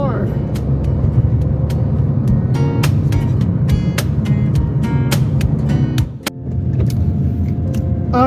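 Toyota Raize driving on a road toward Pasacao Port, a steady close rumble of engine and tyres inside the cabin with scattered small rattles and clicks, and a brief dip near the end.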